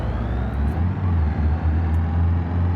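An Audi car engine drones steadily with a low, sustained rumble and rising pitch, accelerating in the racing game BeamNG.drive, with no voices.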